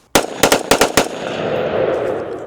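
Close, loud burst of automatic rifle fire in the Arizona desert: about seven rapid shots in quick succession, followed by a rolling echo across open terrain.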